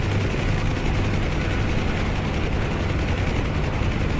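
Dense, steady rotor and turbine roar from Black Hawk helicopters taxiing toward a runway in the DCS flight simulator, loud and unbroken with no talking.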